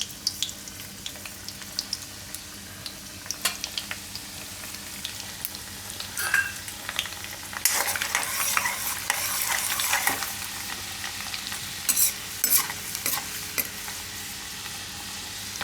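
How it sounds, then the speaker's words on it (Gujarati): Chopped garlic and whole cumin seeds frying in hot oil, a continuous close sizzle with a run of crackling pops and stirring scrapes that grows busier partway through. "આ તેલમાં આપણે નાખી દઉં આ લસણ. થોડુંક એમાં નાખીશું જીરું આખું."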